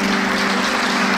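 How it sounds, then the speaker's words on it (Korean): Church congregation clapping together at a Korean church anniversary service, a dense steady wash of applause over a sustained low organ or keyboard tone, filling the whole moment without pause. "우리 박수"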